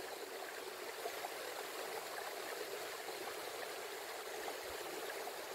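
A river stream flowing nearby, a continuous gentle rush of moving water with light gurgling, steady and low in level, heard alone without voices.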